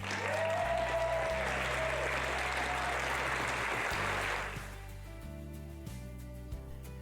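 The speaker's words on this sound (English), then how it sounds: "give everybody in the room a massive round of applause" Loud, dense round of applause from an evening community audience at an indoor event, sustained for about four seconds before dying away as music continues on its own.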